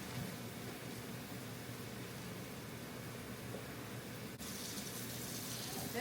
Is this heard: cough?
no